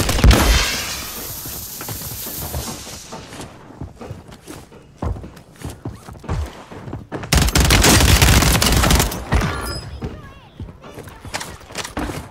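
Rival 9 gunfire in a Warzone match, loud bursts of rapid shots with thumps and footsteps, pausing briefly before another dense volley.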